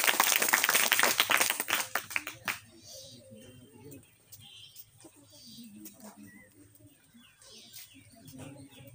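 Clapping from students at a children's day event at a coaching institute bursts out briefly and fades within a few seconds, leaving quieter room noise with scattered voices and small chirping sounds.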